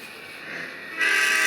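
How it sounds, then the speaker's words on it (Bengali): A train in a video game rumbling past with a steady mechanical drone that suddenly swells brighter and louder partway through, close and alone without talking. "আবার চলে যাচ্ছে ট্রেনটা।"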